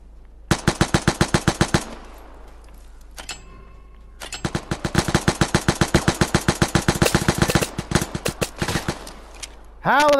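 Rapid automatic gunfire from a police gun in a video game, several long bursts of evenly spaced loud shots separated by short pauses, with a voice breaking in at the very end.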